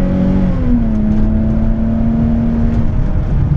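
A 2005 Mercedes SLK with a 3.5 V6, gearbox in sport mode, accelerating hard, engine note climbing, dipping briefly at a quick upshift, then pulling steadily again, heard loud from inside the car.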